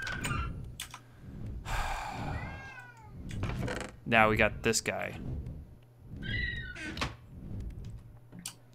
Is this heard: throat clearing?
no